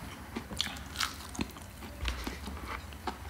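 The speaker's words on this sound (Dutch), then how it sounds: "KFC Hot Wing, eerste hap." Biting into a KFC Hot Wing, fried chicken crunching up close, with a few sharp crisp bites and soft chewing in between, quiet and without talking.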